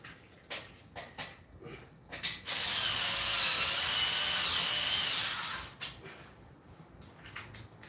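Power drill driving bolts while assembling a RitFit M1-C Smith machine, a few short ratcheting bursts followed by one sustained whirring run of about three seconds, close and loud, then more brief clicks.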